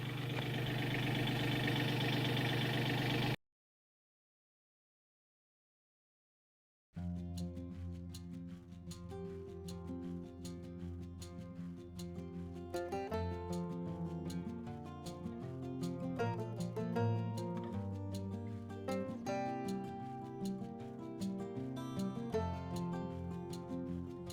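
A small tractor with a backhoe attachment runs at a steady, faint idle with a fast, even knocking beat. It starts after a brief stretch of silence and has no voices over it.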